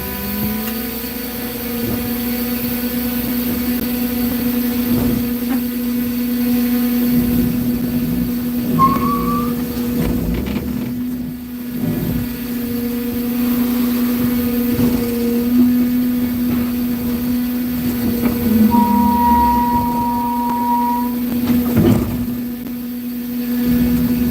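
A car crusher's engine revving produces a sustained droning hum with steady tones that rise in pitch now and then, along with clanks and knocks from the machine, running loud and continuous the whole time.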